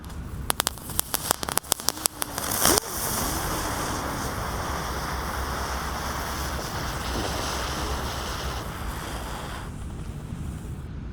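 Seven spinning firework wheels (gangsingan roda gila) lit together: a few sharp crackles and pops, then a loud, steady, hissing roar of burning sparks that carries on unbroken for about eight seconds before suddenly dropping away.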